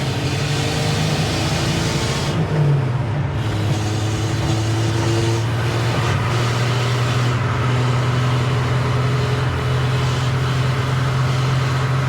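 A 1953 Chevy Bel Air cruises at around 55 to 65 mph, its engine droning steadily under loud road and wind noise while the tone shifts slightly as it pushes harder.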